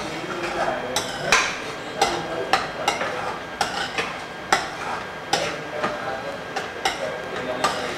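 A spoon stirring and mixing a dish in a metal pot in a cooking-show kitchen, repeated clinks and scrapes at an uneven rhythm, close and moderately loud with a faint sizzle beneath.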